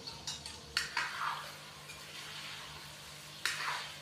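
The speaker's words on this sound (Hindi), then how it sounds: "अच्छे से हम इसको मिक्स करेंगे" Chicken stirred in a pan with ginger garlic paste and salt, a few separate scraping strokes and light metal clinks of a spoon against the pan over a faint sizzle.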